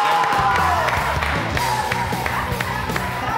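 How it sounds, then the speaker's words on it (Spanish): An audience claps and cheers for the winner of a pro-am championship, a dense, loud wash of applause and whoops over steady background music for the whole stretch. "El aplauso para el ganador."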